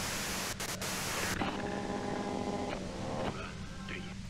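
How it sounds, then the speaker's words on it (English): Radio white-noise static from the video game Disco Elysium hisses loudly and evenly, then drops lower as faint tonal sounds appear beneath it. "you can do it through the white noise."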